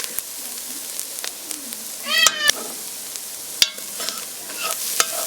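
Garlic cloves sizzle and fry quietly in a soup pot, with sharp clinks and scrapes as they are stirred and a cat meowing in the background.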